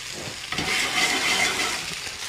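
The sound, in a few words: steaks frying in a pan while being turned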